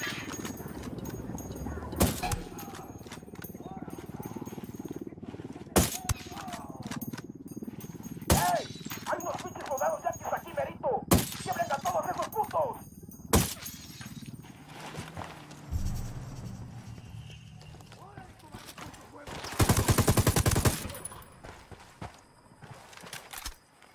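Gunfire during night fighting in Ghost Recon Wildlands, several sharp isolated shots spaced seconds apart, with voices talking between them and a louder noisy burst near the end.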